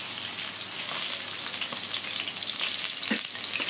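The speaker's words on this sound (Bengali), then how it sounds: "পেঁয়াজ দিয়ে একটু ভাজিয়ে নেব" About half a cup of onions sizzles in hot oil in a kadai on a stove, a steady close crackle with occasional pops and stirring.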